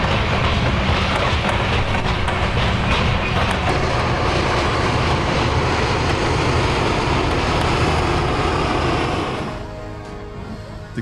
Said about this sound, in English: these locomotives easily pull the heavy train